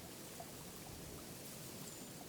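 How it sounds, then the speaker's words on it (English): A tiny waterfall, only about half a foot wide, trickles in a desert creek in the Chisos Basin backcountry, giving a steady, soft, even wash of falling water with no other sounds. "There's a waterfall there. It's only about a half foot wide, but it'll do."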